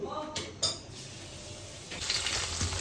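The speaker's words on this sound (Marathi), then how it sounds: "फोडणी चालू आहे." Tempering for an okra curry sizzles in a hot pan with hing going in, a steady frying hiss with a few brief stirring clinks and scrapes, moderately close.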